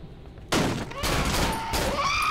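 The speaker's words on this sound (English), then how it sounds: "Four shots to kill" Several gunshots from the Half-Life 1 horror mod Cry of Fear ring out in loud bursts over about two seconds, sharp reports with ringing tails and no talking.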